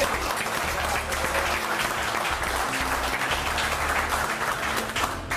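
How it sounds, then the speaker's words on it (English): A crowd at a car-detailing festival in Stuart, Florida, gives a dense, loud round of applause that continues steadily throughout, with a low rumble of crowd noise underneath. "So how about a big round of applause?"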